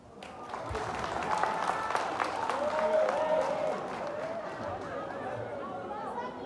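Audience applause mixed with crowd chatter and voices at a political speech event, a steady, moderately loud wash of clapping and murmur throughout.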